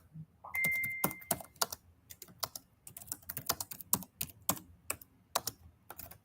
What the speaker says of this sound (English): I'm just typing in the chat for everyone